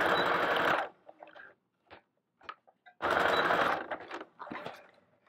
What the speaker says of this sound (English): I'm going to go in and just do a couple passes of the stitching to get some thread to hang